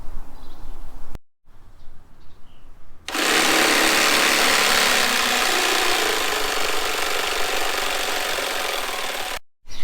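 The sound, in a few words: jigsaw cutting wood board for van bed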